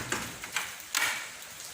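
Light rain falling outside makes a faint, steady hiss, with a few soft ticking drops standing out at irregular moments.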